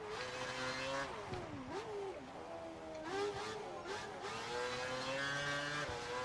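Race car engine in the video game F1 2012 during a young drivers test: a continuous high whining engine note that rises and falls through gear changes and braking, close and prominent throughout.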